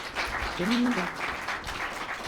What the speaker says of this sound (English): if I could please get a round of applause for our lovely panelists